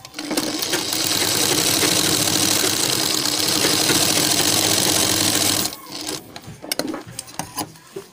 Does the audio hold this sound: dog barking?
no